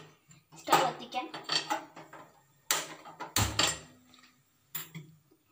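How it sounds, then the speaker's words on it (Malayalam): A metal pot is set onto a kitchen stove at the start of making instant palada payasam, with a series of close clanks and knocks of cookware and a few sharp metallic bangs spaced over several seconds. "ഇനി നമുക്ക് സ്റ്റൗവിലേക്ക് പാത്രം വെച്ച് കൊടുക്കാം"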